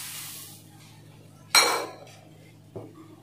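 A bowl of sugar being added to sabudana kheer simmering with milk in a pot: a quiet kitchen murmur, then one sharp clattering clink of bowl against pot, followed by a smaller metallic knock.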